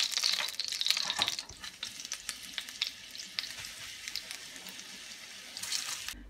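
Chicken wings deep frying in hot oil, a bright crackling sizzle that is loud at first, then drops to a lighter, uneven spatter with scattered pops before swelling briefly near the end, with no talk.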